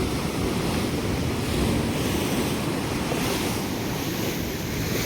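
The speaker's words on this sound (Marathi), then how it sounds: "इकडे पाणी बघा कसलं वरपर्यंत येतं डायरेक्ट. किती खवललंय बघा समुद्र." A rough sea pounds the Konkan shore with loud, continuous surf and wind buffeting the microphone, the crashing close and unbroken with no talk.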